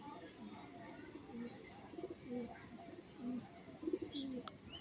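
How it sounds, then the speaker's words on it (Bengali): A female pigeon with a dark tail and white claws coos in soft, repeated low calls, close by, alongside a low murmur of human voices in the background. "লেজ পুরো কালডুম, লেজ কালডুম, নখ নখ সাদা, মাদি পায়রা।"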